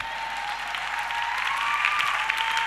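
A church congregation at a pastor's sermon claps and cheers in sustained applause, a dense, even wash of many hands that holds steady for a few seconds.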